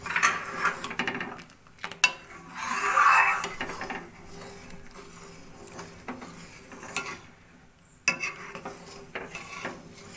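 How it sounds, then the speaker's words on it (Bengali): A spoon stirs tomato soup in a pot after cornflour goes in, giving intermittent metallic scraping and clinking against the pan with soft bubbling between the strokes. "এবার আমি এখানে কর্নফ্লাওয়ারটা যেটা আমি রেখেছিলাম সেটা আমি দিয়ে দেব, দিয়ে খুব নাড়তে হবে"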